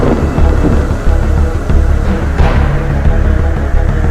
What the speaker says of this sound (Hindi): तेज आंधी शुरू हो गई।